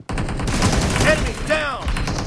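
Gunfire in the mobile game PUBG Mobile comes as a dense burst of rapid automatic shots followed by a second short volley, loud and close, with game voice callouts mixed in.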